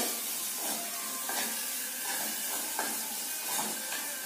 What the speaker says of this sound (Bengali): তো আমার ডালটাও হয়ে গেছে, তাই একটু ফোড়ন দিতে হবে।